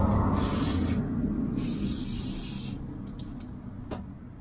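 Oil is sprayed onto rusted screws on a salt-damaged Toyota Land Cruiser Prado 120 during wheel-bearing work. Two close hissing aerosol bursts, the second longer, are followed by faint mechanical clicks and rustling.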